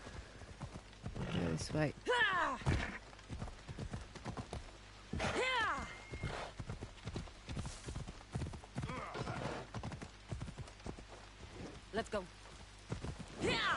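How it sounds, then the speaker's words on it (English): Horse hooves clip-clop repeatedly in a quick rhythm alongside neighs and whinnies in the video game Assassin's Creed Odyssey, while people talk over the sounds. "Get on the horse."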